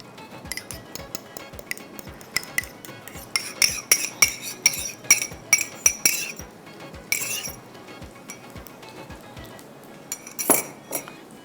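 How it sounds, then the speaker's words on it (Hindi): Spoons and utensils clink and scrape against dishes while yogurt is whisked and added to onions browning in a pan for lagan ka qeema, a busy run of close, sharp metallic taps with brief louder bursts. "जब प्याज हमारा यहाँ पर हो रहा है ब्राउन, इसमें दही को फेंट के डालते हैं।"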